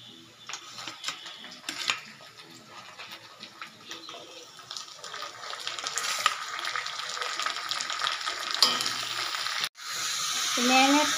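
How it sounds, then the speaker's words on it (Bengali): Marinated meat coated in yogurt, chili powder, salt, turmeric and mustard oil sizzles steadily in a wok while being stirred, with scraping and clinks of a utensil against the pan, growing louder toward the end. "ম্যারিনেট করা মাংসটা এবার আমি 2 মিনিট নাড়াবো।"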